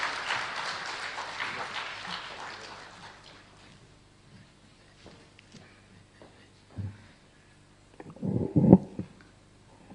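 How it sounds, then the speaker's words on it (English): Applause for a guest dignitary at a business forum in Nigeria swells briefly, then fades away over a few seconds, followed by quiet with a few soft thumps and low room sounds. "Please can we give him a big round of applause?"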